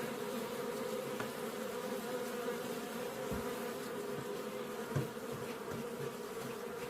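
Steady, dense buzzing of many honeybees, continuous and moderately loud throughout, with a few faint knocks in the background.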